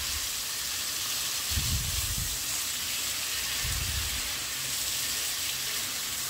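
Vegetables for a pizza bread pocket filling sauté in hot oil in a pan, giving a loud, even hiss throughout with two soft low thumps as they are moved around.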